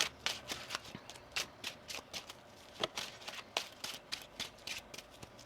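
Tarot cards being shuffled in quick, repeated riffling bursts, a steady papery flutter close by with no one speaking.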